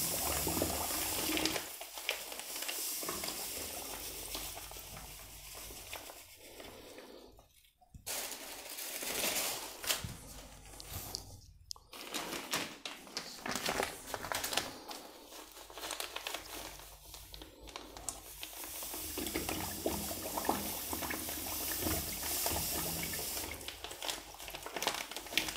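Dextrose being poured into apricot juice and stirred in, producing crinkling of a bag, liquid sloshing and scraping, with brief pauses between bursts of close handling.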